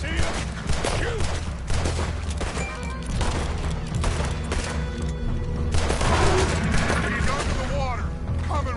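Gunfire in a Red Dead Redemption 2 shootout, rapid shots and booms layered under tense shouting voices and a dense background score, loud and continuous throughout.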